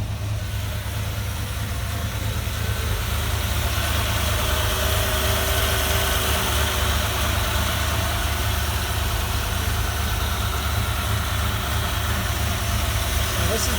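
An early Ford Bronco, started for the first time in 26 years, idles with a steady low rumble that holds even and close throughout, and no one talks over it.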